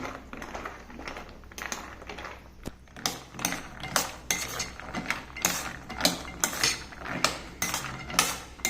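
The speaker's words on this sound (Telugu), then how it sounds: "ఇలా కంటిన్యూషన్గా కలుపుతూ ఉండాలన్నమాట" A spoon scrapes and clinks rhythmically inside a metal vessel as rice-flour and butter dough with jaggery syrup is stirred continuously, a repeated, fairly quiet tapping stroke close by.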